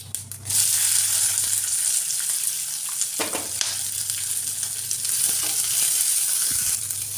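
Loud, continuous sizzling of onions and green chillies frying in oil, with occasional stirring scrapes breaking through the steady hiss.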